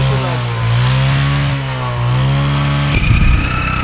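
A motorcycle engine revs loudly and steadily on a rural hill road at Bijoypur, Mymensingh, its pitch rising and falling before a harsher burst of throttle near the end.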